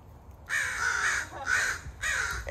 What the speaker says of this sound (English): Here's a crow.